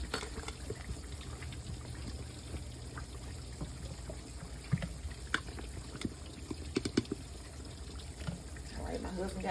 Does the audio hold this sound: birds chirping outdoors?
no